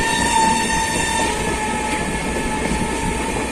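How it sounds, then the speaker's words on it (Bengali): The Howrah–Amritsar Mail train rumbles past close by with a loud, continuous roar and rattle, a steady tone ringing above it early on. "পরের পর ট্রেন ক্রস হচ্ছে এই সময় অমৃতসর মেল"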